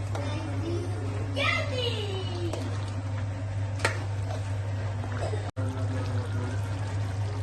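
Water is poured into a Telangana-style chicken liver curry in a pan, giving a steady close stream over a constant low hum, while a person talks.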